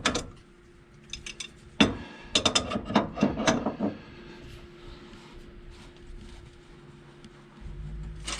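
Ratchet wrench clicking in short bursts while a steering brace bolt on a 2019 Ram Power Wagon is tightened, quick metallic ticks near the mic, followed by quieter handling noise and a faint steady hum.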